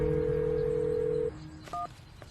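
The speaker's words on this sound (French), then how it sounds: "Rosanna, excuse-moi de t'appeler sur ton portable un samedi." A steady telephone dial tone holds, then cuts off, followed by a short pair of dialing beeps as a number is keyed in before a mobile phone call.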